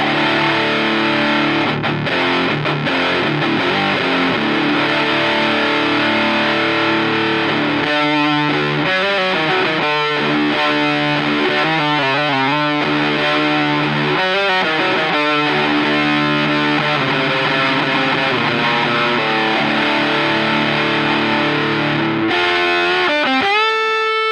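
Heavily distorted electric guitar through a Dark Knight distortion pedal on the bridge pickup plays sustained chords and riffs, loud and continuous with long ringing sustain, no voices.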